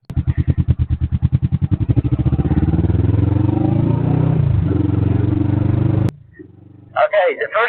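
A motorcycle without a windshield rides through city streets, its engine pulsing rhythmically and then settling into a steady droning hum up close, before cutting off abruptly and leaving a few brief bursts of sound.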